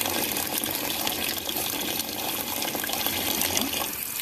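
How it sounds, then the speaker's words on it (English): Tap water running steadily into a sink while dentures are rinsed, a continuous close splashing gush with no breaks. "And now I want to rinse."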